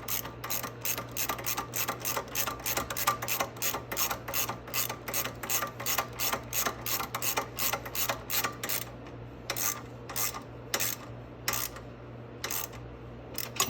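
A hand ratchet tightens lock nuts on the control arm of a Venom 125cc Grizzly ATV, giving a long steady run of quick, close, regular clicks that briefly pause near the end.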